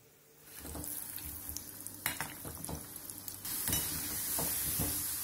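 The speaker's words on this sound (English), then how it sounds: "Deep fry the koftas in hot oil" Green pea koftas deep fry in hot oil with a loud, steady sizzle and crackle close by, the hiss swelling as more go in, punctuated by a few light utensil knocks.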